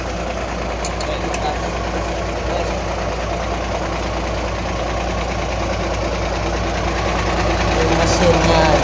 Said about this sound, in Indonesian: Mesin depan. Bukan mesin belakang.